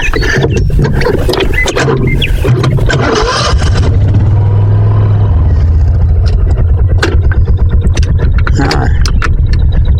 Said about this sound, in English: go ahead and put the mule in 4-wheel drive too to get all the traction I can get